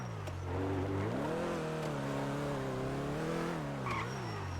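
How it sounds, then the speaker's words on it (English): A steady car engine in a video game drones with shifting pitch, rising and falling as it revs, with a brief skid-like squeal near the end; no talking. "I wonder if I just heard his car."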